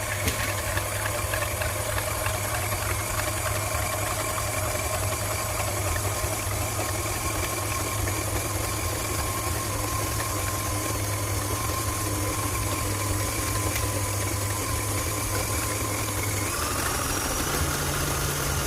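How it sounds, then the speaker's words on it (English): An electric mixer whisks cream for no-churn ice cream, a steady mechanical whirring hum that runs continuously and close without pause, shifting slightly in tone near the end as the cream thickens. "So you start whipping till it's thick."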